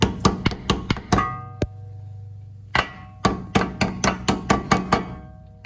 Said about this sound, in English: tap it home with something. I'm just going to use the back side of my screwdriver here